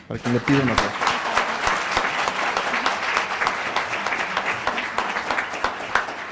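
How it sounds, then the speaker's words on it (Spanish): Applause for the INE's presiding councillor at a teacher evaluation model event: dense, sustained clapping from a large audience that fills the clip, with a voice briefly audible at the very start. "para quien les pido un aplauso"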